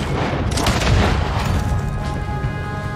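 Gunfire in Red Dead Redemption 2, a dense, loud barrage of overlapping shots and booms in a shootout, close and continuous with no pauses.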